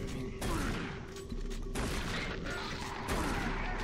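Shotgun blasts in Doom 3, several heavy booming shots in quick succession, loud and close, with mechanical clatter between them.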